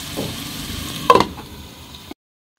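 Food fries in a pan on the stove for a cucumber soup, giving a steady close sizzle with a brief clattering stir partway through before the heat goes off and the sound stops abruptly.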